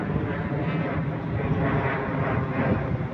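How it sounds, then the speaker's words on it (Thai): A large airliner passes overhead near Don Mueang airport above open former rice fields, a loud broad rumbling engine roar that holds steady for a few seconds, with faint voices nearby. "เด็กๆ ก็ดูเครื่องบินลำใหญ่"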